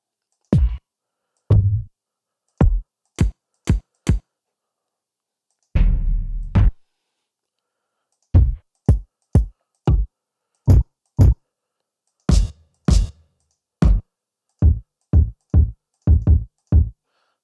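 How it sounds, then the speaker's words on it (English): A light kick drum sample auditioned in a music production session, struck alone in short, dry hits with a slightly tubby thump, played in loose groups and rapid runs with pauses between. "Let's do like a lighter kick or something."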